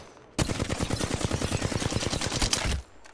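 Rapid automatic gunfire in Apex Legends on Storm Point, a single sustained burst of evenly spaced sharp shots lasting about two seconds, close and loud, then cutting off.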